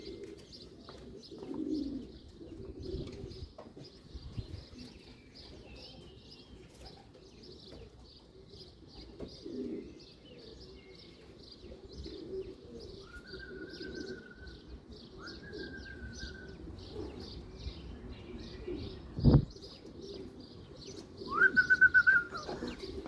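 Soft repeated cooing of racing homing pigeons with high chirps throughout, a steady distant calling, plus a few sharper calls and a brief flutter near the end.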